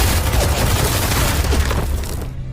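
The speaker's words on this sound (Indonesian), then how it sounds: "para pasukan Rusia tiba-tiba menembaki Mike dan Danny" Gunfire from an ambush on Russian troops in a war film, heard as a dense, loud barrage of shots and booms that runs throughout with no pauses before it thins out near the end.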